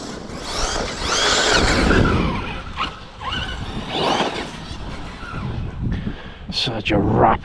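A Hobao SSTE RC truck drives hard, its electric motor whining and rising in pitch through repeated bursts of acceleration, with tyre scrabble and squeals, under someone talking nearby.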